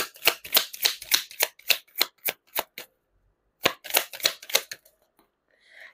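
Tarot cards being shuffled and drawn by hand, a rapid series of crisp riffling snaps in two close bursts separated by a brief pause, with no talking.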